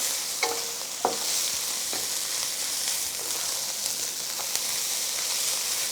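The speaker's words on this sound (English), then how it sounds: "Let the rice just sort of like toast. You can hear them toast." Rice toasts in a hot pan for pineapple fried rice, giving a steady close sizzle and hiss with a few sharp scraping stirs near the start and occasional clicks.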